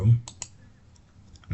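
A few sharp computer mouse clicks, two close together early and another near the end, sit over a faint low hum while working in an Excel spreadsheet.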